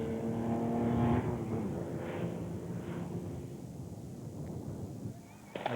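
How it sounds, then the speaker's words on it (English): A 1976 Datsun 280Z races through a Targa Newfoundland rally stage at Musgrave Harbour, its engine howling loud and close, then fading into a rushing roar as the car passes and pulls away. "Here's Jack McDonald as he races his sweet 76 Datsun 280Z to a penalty-free run"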